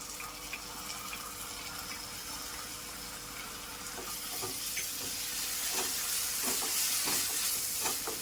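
Ginger, garlic and green chili paste frying with browned onion in a pan, a constant close hiss that swells louder partway through as stirring scrapes and taps come in.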